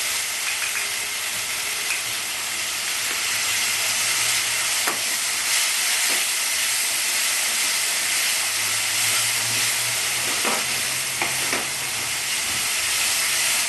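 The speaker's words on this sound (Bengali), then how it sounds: "মশলাটা আমি খুব সুন্দর করে কষবো, যেন কাঁচা গন্ধ না থাকে" Spice masala sizzles and hisses steadily in a pan for a Bengali-style omelette curry, heard close up. Occasional stirring scrapes and soft clinks break through the sizzle.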